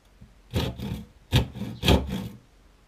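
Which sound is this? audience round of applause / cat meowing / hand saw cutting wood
hand saw cutting wood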